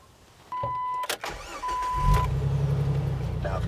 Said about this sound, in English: you can actually start the vehicle